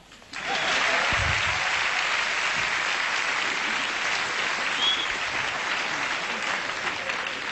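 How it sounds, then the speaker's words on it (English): A live comedy-show audience bursts into loud, sustained clapping that swells quickly and holds steady, a dense wash of many hands with no voices on top. "All right, so clap."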